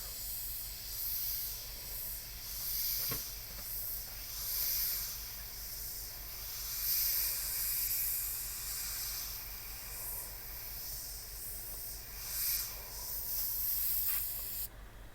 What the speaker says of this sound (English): That's my little test of the airbrush compressor.